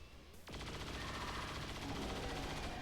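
Chain shot ability fire in XCOM 2, a sudden loud burst of rapid, rattling gunfire that starts after a short quiet lead-in and continues in a dense, sustained stream.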